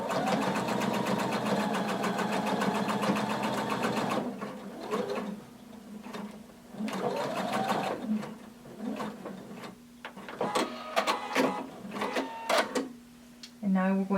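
A sewing machine runs steadily while backstitching a hooded tunic seam, a close buzzing whir that stops partway, then returns in shorter bursts with clicks and handling noises and a voice talking.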